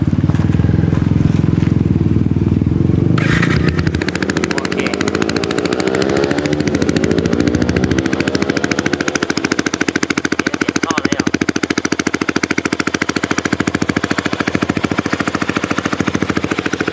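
A Yamaha R15 motorcycle with an aftermarket exhaust idles with a low throb, then revs up with a rising, crackling exhaust roar that keeps pulsing loudly.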